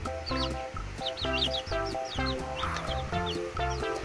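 Red laying hen pullet chicks in a brooder, a busy flock peeping in repeated high, bright chirps close by, with steady rhythmic chatter and faint background noise throughout.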